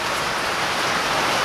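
Heavy rain falls in a continuous, even roar, close and loud, with no break or talk over the brief span.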